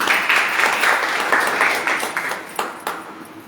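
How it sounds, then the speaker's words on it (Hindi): An audience at a business seminar claps loudly and densely at first, then the applause thins into a few scattered, separate claps before fading out. "और एल्टॉस के लिए मैं एक बार जोरदार ताली चाहूंगी।"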